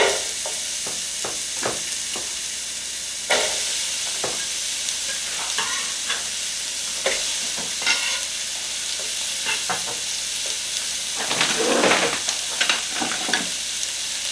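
Onions sizzling and frying in oil in a Copper Chef pan, a steady bright hiss broken by repeated stirring scrapes and crackles, close and loud with no talk.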